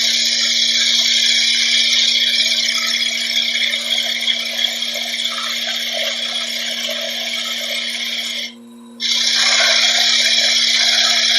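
A wood lathe spins a green wood bowl while a gouge cuts it, making a steady loud hissing shear over a constant motor hum, with one short break before the cut resumes.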